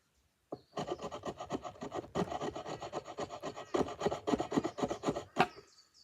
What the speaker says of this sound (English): And we're able to get some shavings.